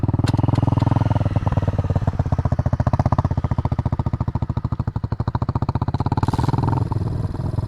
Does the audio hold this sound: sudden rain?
no